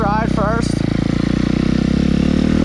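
A $500 Suzuki RM-Z250 dirt bike runs on a test ride with a loud, close, steady engine drone, and a voice speaks briefly over it at the start.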